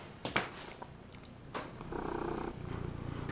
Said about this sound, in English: God, you gotta hear the purring again.